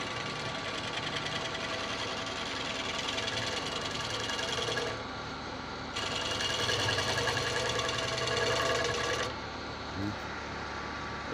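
A gouge making a side bevel cut on a 14-inch Irish yew bowl spinning on a wood lathe, with a loud, continuous motor drone and dense chatter of shaving, briefly easing twice.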